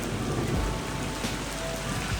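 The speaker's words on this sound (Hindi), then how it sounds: "बहुत ज्यादा ही बादल गरज रहे हैं आज।" Heavy rain pours steadily with a low, rolling rumble of thunder underneath, a dense continuous wash of sound.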